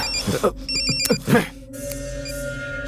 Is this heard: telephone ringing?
yes